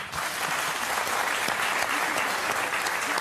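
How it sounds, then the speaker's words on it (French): Studio audience applause on a French Sunday TV variety show, a full, dense burst of clapping at steady loudness from start to finish with no talk over it. "Qu'on applaudit."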